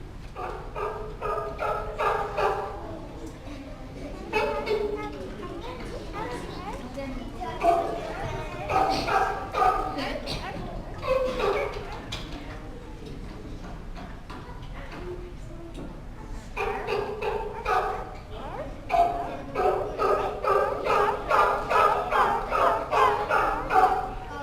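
Several dogs bark, howl and yelp in irregular bursts, fairly faint and distant, with pauses between outbursts.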